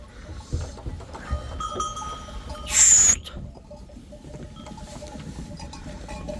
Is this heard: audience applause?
no